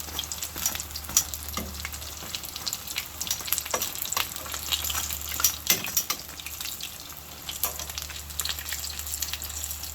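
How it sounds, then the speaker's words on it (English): Breakfast food frying in a pan, a steady close sizzle and crackle with occasional spatters and stirring clinks, with no voices over it. "You can fry them to your desired color as well"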